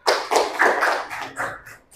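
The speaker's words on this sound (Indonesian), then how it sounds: "tepuk tangan buat Mbak Jihan yang berani maju" A classroom applauds a student, Mbak Jihan, for coming to the front: a short burst of close, uneven hand claps lasting about two seconds and fading out near the end.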